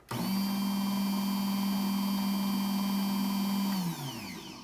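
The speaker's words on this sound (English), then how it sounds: "So that's the sound of the Mahlkonig." A Mahlkonig X54 coffee grinder runs for about four seconds with a steady motor hum and a faint higher whine, then spins down as it stops, heard up close with no talking.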